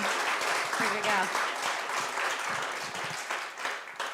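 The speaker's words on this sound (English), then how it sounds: "So one more round of applause, everyone, for Dr. Frank Fungi." Warm, steady applause from an audience at a natural history institute talk on lichens, many hands clapping continuously with a voice briefly cheering underneath.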